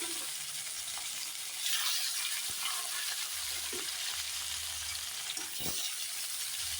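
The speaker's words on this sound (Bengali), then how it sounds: "কড়াইতে তেল গরম হয়ে গেছে আমি এখন মাছগুলো এক এক করে দিয়ে ফেলে দিই" Pieces of rohu fish fry in hot oil in a wok, a soft continuous sizzle with a few clinks and thuds as pieces drop in, faint and close, without speech.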